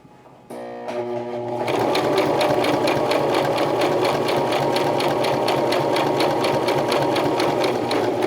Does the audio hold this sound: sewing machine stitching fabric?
yes